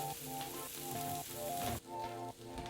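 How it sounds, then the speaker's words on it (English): Shrimp sizzle steadily in a hot frying pan during a spicy lime shrimp recipe, a close, dense crackle and hiss that carries on alone throughout with faint kitchen clatter. "Sizzling."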